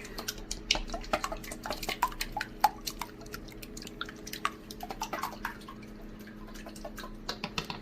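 Banana bread batter is whisked in a bowl, producing quick, irregular light clicks and taps of the whisk against the side, close and fairly quiet over a soft background hum.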